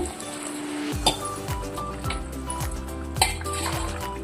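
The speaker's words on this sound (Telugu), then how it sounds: "ఇప్పుడు నేను ఒకటికి మూడు గ్లాసులు వాటర్ పోస్తున్నాను" Water pours and splashes into a metal cooking pot for tomato bath, with a couple of clinks of utensils against the rim, close by and moderately loud.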